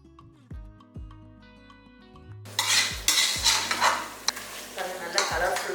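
After a few seconds of soft melodic tones, tomatoes cooked with onions and masala for tomato rice are stirred in a pan. The spoon scrapes and clacks close up in irregular strokes over a light sizzle.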